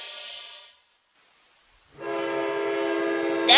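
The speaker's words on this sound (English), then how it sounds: "That's the train. It's coming." A train in the Brick Rigs video game sounds a loud horn, breaks off into near silence, then blasts a sustained, rich horn tone again that swells louder at the end.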